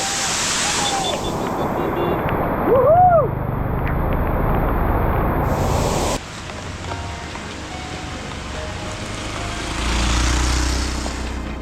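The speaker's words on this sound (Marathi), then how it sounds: "तामिनी घाटातला सगळ्यात मोठा वॉटरफॉल तामिनी वॉटरफॉल जो की रस्त्याच्या साईडलाच एकदम असा मोठ्या रोद्र रूपमध्ये तो वाहत असतो" A large roadside waterfall at Tamhini Ghat pours with a loud, constant roar, mixed partway through with wind and a brief passing engine tone.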